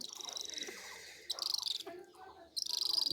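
A black kite chick calls in repeated rapid, high, shrill chittering bursts. The bursts are separated by brief pauses and sound fairly close.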